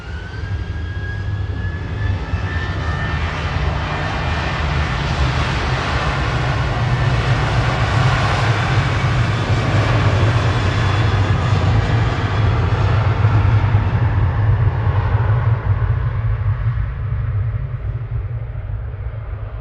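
A Jet2 airliner, registration GDFD, takes off from Manchester Airport bound for Prague, its jet engines a loud, steady roar that holds for the whole stretch and slowly fades toward the end, with no voices over it.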